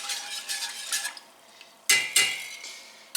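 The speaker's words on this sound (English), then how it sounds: "Quick whisk." A whisk works through lemon meringue pie filling of egg yolks and water in a pot: quick scraping strokes against metal, with a few sharper clanks near the end.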